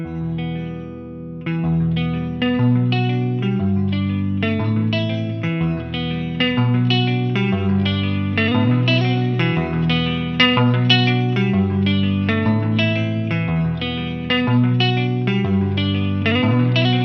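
An electric guitar plays a steady riff through an Eventide H9 MK2 effects pedal, its tone swelling and wavering with a wah-like sweep and warbling vibrato, continuous and fairly loud.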